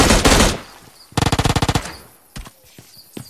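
An M16 rifle fires in the video game PUBG Lite: a dense opening burst, then a rapid rhythmic string of about a dozen sharp shots, followed by a few scattered single reports, loud and close.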